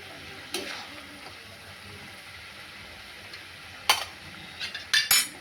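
Potato and eggplant go into a pan of fried spices and are stirred, giving a low steady sizzle with a few sharp clinks of a spoon against the pan near the end.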